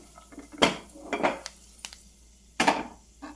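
Roasted ingredients for caramel kheer tip into a metal pot in a few sharp clattering knocks and scrapes of metal, close and distinct, with no talking.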